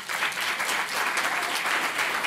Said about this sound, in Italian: Quindi ci facciamo un applauso.